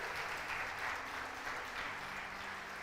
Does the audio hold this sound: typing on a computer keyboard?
no